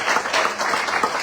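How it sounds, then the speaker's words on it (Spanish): A church congregation at an evangelical service breaks into applause, a short burst of dense, even clapping lasting just over a second. "Denle un aplauso."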